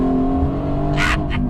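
A Mercedes-Benz AMG GT S with a turbocharged engine accelerates, a loud, close, continuous engine drone with a steady low rumble and brief whooshing bursts near the end.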